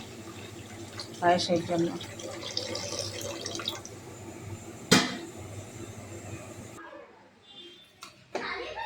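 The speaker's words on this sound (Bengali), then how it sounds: "নিয়ে দুধটা ঢেলে দেবো" Milk poured into a pot of simui payesh with raisins, giving a steady liquid splashing and trickling under a person speaking, with one sharp clink partway through.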